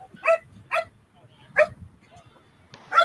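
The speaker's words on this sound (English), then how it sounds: "Look at the dog." A dog barks four times in sharp, separate, fairly close barks spaced about a second apart, over quiet background with faint murmuring.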